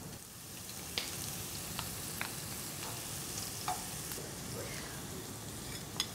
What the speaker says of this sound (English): So we're adding in the onions, just letting them sizzle a little bit